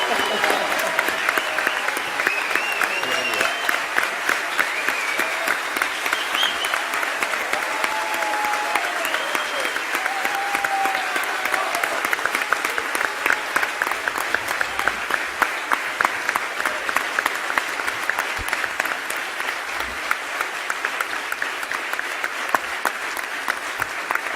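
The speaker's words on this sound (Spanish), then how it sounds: "recibimos con un muy fuerte aplauso al señor expresidente de Ecuador, el señor Rafael Correa." A large crowd at a university honorary doctorate ceremony gives long, loud, continuous applause welcoming the former president of Ecuador, with rhythmic clapping throughout and faint voices and cheers mixed in.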